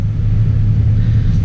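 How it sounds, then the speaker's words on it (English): A BMW E60 M5's exhaust emits a steady, loud, deep rumble that holds constant throughout, with no voices over it. "this car here, honestly, aside from some of those high-end supercars, has an exhaust sound second to nothing"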